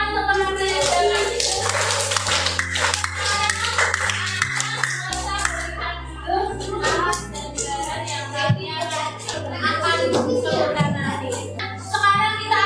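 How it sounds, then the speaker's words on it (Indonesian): Schoolchildren in an Indonesian primary classroom applaud their classmates, with a bright burst of many small hands clapping that continues for several seconds, mixed with children's voices and a steady low hum. "Beri tepuk tangan untuk teman kalian."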